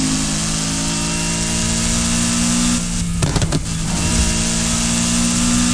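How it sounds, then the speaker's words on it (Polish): A drifting car in Need for Speed Heat revs hard as the clutch is kicked, a loud steady engine drone with a brief surge and rough burst in the middle, no talking. "dodaję sobie tego sprzęgła, żeby strzelić ze sprzęgła, żeby samochód wszedł na obroty szybciej i trochę zaczął mielić"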